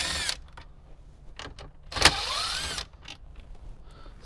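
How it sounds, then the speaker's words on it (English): Power driver backing out 7mm screws inside a Jeep Wrangler, several short whirring bursts, the longest rising in pitch, close and clear with no talking. "it'll reveal 4 7mm screws in each corner. So let's go ahead and get those out."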